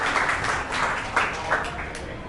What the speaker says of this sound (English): if we could just give Beck a round of applause